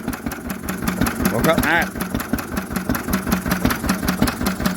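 An old Lister engine, first started in 40 years, runs with a steady rapid thumping beat, loud and close, while someone speaks briefly over it.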